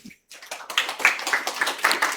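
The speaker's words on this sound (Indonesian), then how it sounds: "Tepuk tangan dulu" A small group claps together during a project management class session, a short burst of brisk, uneven hand claps starting after a brief pause.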